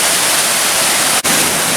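Loud, steady broadband rush of a Tennessee waterfall heard up close, a continuous hiss with a brief dip near the end.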